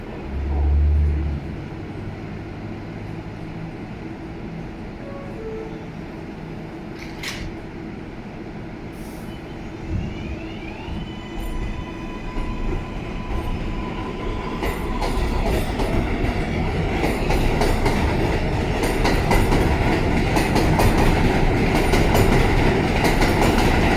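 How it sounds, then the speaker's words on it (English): An R188 7 local subway train runs at 40th Street-Lowery Street station, starting quiet with a low rumble, then building to a loud clattering roar of wheels and cars passing the platform. "This is a Flushing Main Street bound 7 local train."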